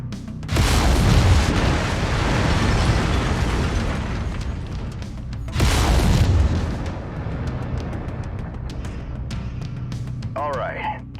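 Mech lasers firing in MechWarrior 5, two loud blasts with heavy low rumble, each sustained for several seconds, followed by softer mechanical rumble and a brief chirp near the end.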